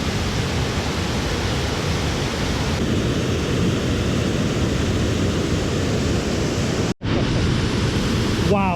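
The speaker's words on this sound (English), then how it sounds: "Another awesome waterfall enhanced by last night's rain." A rain-swollen waterfall in an Adirondack canyon, a loud, unbroken roar of falling water heard up close, steady apart from one brief cut late on.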